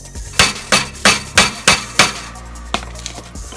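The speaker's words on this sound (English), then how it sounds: "Now, try to smash that out with a hammer." Six sharp, ringing hammer blows on a metal part of a 4th-gen F-body Camaro/Firebird during an upright radiator install land in a quick, even rhythm, followed by two lighter taps after a brief pause.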